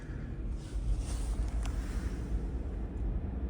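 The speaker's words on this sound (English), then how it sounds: "24 degrees outside and there is a stiff wind." Strong wind buffets the microphone in a steady, low rumbling roar with gusty swells, loud and constant throughout with no voices, outdoors in a blizzard at 24 degrees.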